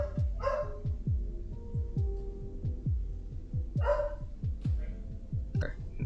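Dogs bark in a few sharp, nearby bursts over a steady rhythmic thumping in the background.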